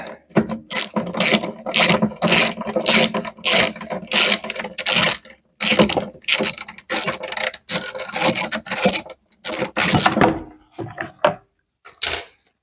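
A hand ratchet backing out license plate screws on a Jeep TJ's rear sheet metal, with rapid, loud clicking bursts repeating in close succession and short pauses between strokes.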